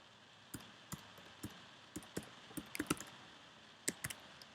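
Quiet, sparse keyboard typing on a computer: irregular single clicks spaced across a few seconds, close to the mic with no talk.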